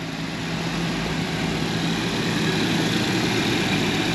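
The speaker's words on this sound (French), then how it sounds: "j'ai laissé le moteur en marche, comme ça vous pouvez l'écouter." A 1990 Jaguar XJS V12 idles with a smooth, steady twelve-cylinder hum and low rumble, heard close up and alone, holding an even level for a few seconds.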